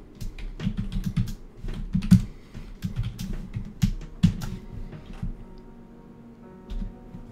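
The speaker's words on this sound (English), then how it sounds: "that should handle if any key at all is pressed on the keyboard" Keys tapped on a computer keyboard while C++ code is written: a run of quick, close clicks in irregular bursts, thinning out toward the end.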